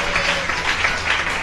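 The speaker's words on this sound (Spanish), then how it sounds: "Denle un aplauso fuerte al Señor de la gloria." A church congregation applauds steadily together, a dense, even wash of clapping filling the whole moment with no voices rising above it.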